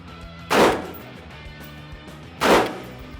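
Two loud, sharp gunshots ring out on a shooting range, about two seconds apart and close by, each with a short decaying tail over quiet background.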